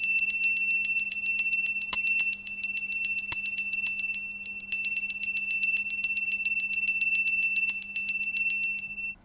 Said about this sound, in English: I'll play the alarm once more, the bells ringing for the two Bills and their wives.